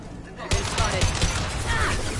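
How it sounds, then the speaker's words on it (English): Gunfire from Blue Suns and Vorcha in Mass Effect 2 bursts in loud, rapid shots after a brief quiet start, dense and continuous, with no talk. "Blue Suns and Vorcha shooting anything that moves"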